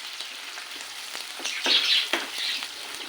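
Thinly sliced onion and four chopped green chilies sizzle in hot oil in a pan, a steady close crackle with light stirring scrapes and a few louder spits, no voices.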